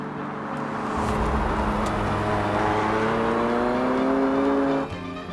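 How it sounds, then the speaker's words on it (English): McLaren 720S Spider sports car engine revving, a steady, loud sustained drone with a rising pitch for about five seconds, then dropping off abruptly near the end, no voices. "Is that revving enough? Yeah. The good thing is the 720S is not that loud"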